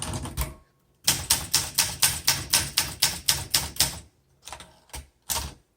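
A 1967 Olympia SM8 manual typewriter clacks under fast typing: a brief burst, a pause, then a rapid run of about a dozen crisp, loud keystrikes, followed by a few scattered strokes.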